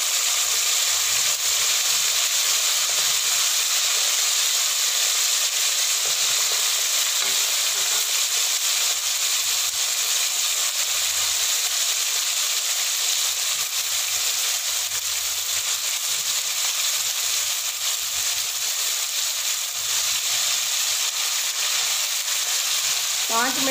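Chicken pieces frying unstirred in oil for karahi, a loud dense sizzling hiss that holds steady and close for the whole stretch, with a faint scrape near the end.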